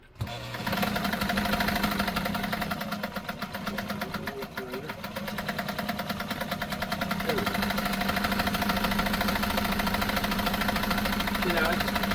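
A Nesco de Luxe push-button zigzag sewing machine runs a steady stitch with a fast, even mechanical whirring and rapid needle chatter, close and continuous, while a person talks over it.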